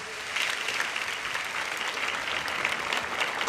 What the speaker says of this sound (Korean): 우리 중고등부를 향해서 다시 한번 큰 박수로 격려하도록 하겠습니다